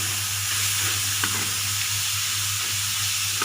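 Chili paste with pork cracklings stir-fried in a pan, a steady dense sizzle running throughout with a few faint scrape ticks from stirring, close and even in level.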